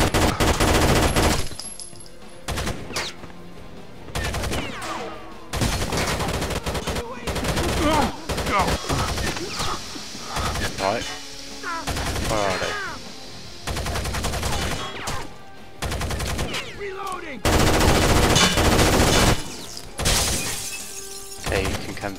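Gunfire from a Rainbow Six Vegas 2 co-op campaign firefight: dense, loud bursts of automatic and single shots with sharp cracks and shattering impacts, running almost continuously with brief pauses.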